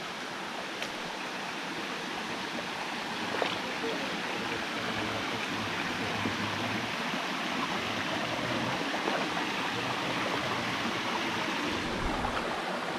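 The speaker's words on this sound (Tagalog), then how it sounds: "napakaganda itong mga falls na to" A steady, broad rush of water pours down a waterfall, continuous and fairly loud throughout, with no pauses or voices.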